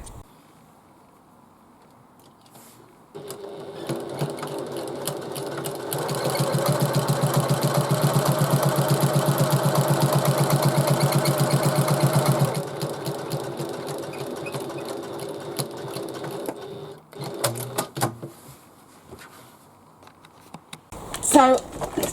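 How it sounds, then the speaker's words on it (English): A domestic sewing machine runs steadily while top stitching along the top edge of a handmade bag, a continuous motor whir that swells louder midway before easing off, followed by scattered handling clicks and a thump at the end. "now I'm going to just top stitch along the top"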